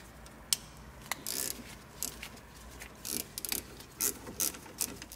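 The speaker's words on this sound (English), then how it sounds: "next I'm going to remove these two caliper bolts" A ratchet removes brake caliper bolts on a car, producing quiet, close, rapid clicking bursts of the pawl with short pauses between strokes and a faint background hum, no speech.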